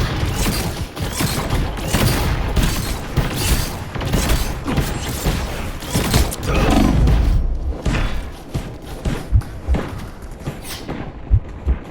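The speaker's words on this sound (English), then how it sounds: "Powering up. Rockets, fire!" Iron Man's rocket barrage in the video game Marvel Rivals: a loud, dense run of thuds and blasts with mechanical clanks, continuous for most of the stretch and easing to scattered hits near the end.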